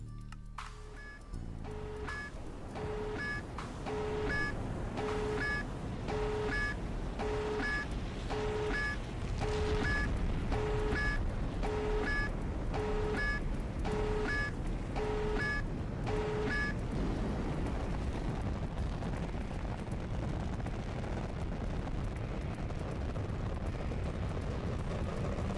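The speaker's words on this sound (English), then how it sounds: "we'll go ahead and put this pyro missile in here, tier 1, and begin to launch the missile" A tier 1 pyro missile launching in the Minecraft mod Fission Warfare: a rhythmic beeping countdown repeats for about fifteen seconds over a loud, steady roaring rumble that keeps going after the beeps stop.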